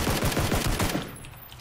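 Rapid bursts of automatic gunfire in the battle royale game PUBG on a foggy map, dense and loud for about a second before tailing off into quieter background noise.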